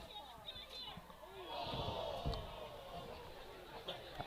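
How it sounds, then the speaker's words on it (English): A crowd at a high school baseball game, Dripping Springs Tigers versus Buda Johnson, lets out a swelling murmur of oohs in the distance, rising and fading over a few seconds amid faint outdoor ambience. "Here's some oohs from the crowd."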